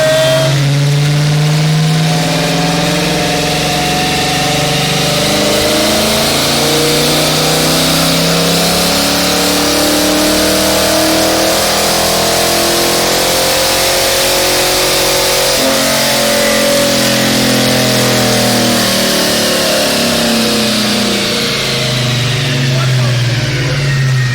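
A 1985 Ford Mustang GT on a chassis dyno roars through two sweeping full-throttle pulls, engine pitch climbing steadily, dropping around the midpoint, then rising again, loud and sustained with a voice faintly beneath.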